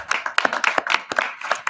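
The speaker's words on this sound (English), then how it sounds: "So big round of applause." A small group claps at a board of education meeting, with sharp, uneven hand claps close by over a couple of seconds and no talking.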